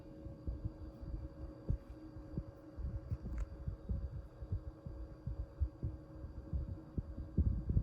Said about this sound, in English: Very typical Panasonic low speed. Slow and quiet, but moves steady air.